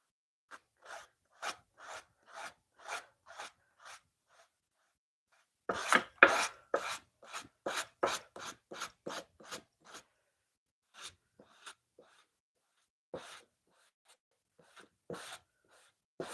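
Wood is sanded by hand with sandpaper, working through successive grits: close, quiet rhythmic rasping strokes in two bursts with short pauses between them, and nobody speaking.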